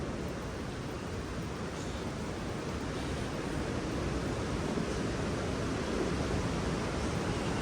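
A constant, broad roar of rushing water fills the scene, dense and unbroken like a nearby waterfall at the Gupteshwar Mahadev caves, with no voices heard.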